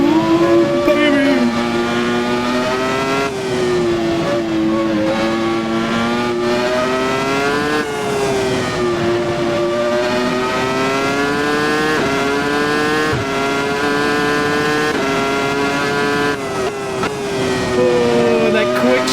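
An F1 car screaming around Suzuka in Assetto Corsa on cold tires, its high-pitched engine climbing steadily and dropping sharply at each quick upshift, loud and continuous throughout, with occasional talk over it.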